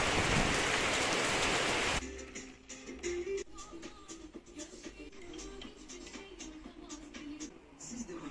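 Heavy rain pours down during a road trip in Turkey, with a loud dense burst of rain for the first two seconds and then a steady, close patter of drops on surfaces.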